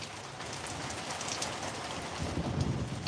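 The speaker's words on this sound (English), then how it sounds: "turn down the rain sounds a little bit." Steady recorded rain falls throughout, a dense hiss of drops on a surface that swells slightly louder near the end, with no voices over it.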